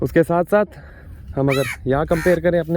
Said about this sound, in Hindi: अरे ये कौवा मेरे पीछे पड़ गया है तब से